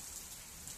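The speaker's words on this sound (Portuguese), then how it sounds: "Tá chovendo demais" Heavy rain without wind pours onto a shelter roof in the Pantanal, a brief, steady hiss of dense drops at moderate distance with no voices.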